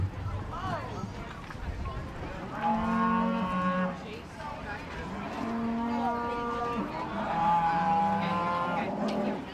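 Cattle in a livestock show ring moo repeatedly in long, drawn-out calls, several overlapping in sequence over a busy arena background.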